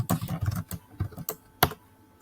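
Code being typed on a computer keyboard: quick, uneven bursts of close key clicks with short pauses, including one sharper, louder keystroke near the end.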